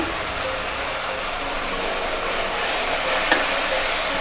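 Chana dal, urad dal, cumin and coriander seeds fry in hot oil for a Malabar spinach pickle, giving a steady, close, even sizzle that holds throughout with no talking.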